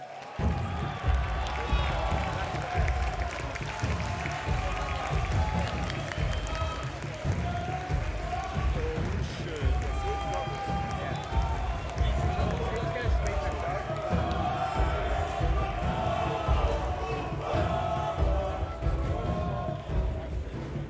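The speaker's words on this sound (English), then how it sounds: "We have the crowd in the background. I heard a lot of cheers for Mo" A crowd at the Clash Royale World Finals esports event cheers and applauds continuously in a large arena, a steady roar of clapping and shouts beneath a commentator talking.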